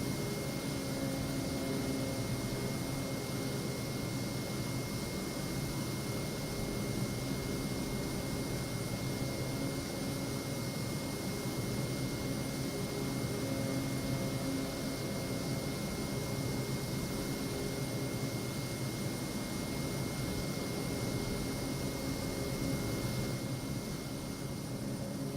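Steady, even cockpit drone of a Kodiak aircraft cruising in flight in Microsoft Flight Simulator 2024 over Papua New Guinea, a constant broadband engine and air hum with a faint high whine, unchanging throughout and fairly quiet.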